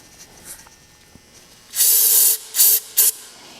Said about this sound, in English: I'm using carb cleaner here in these ports.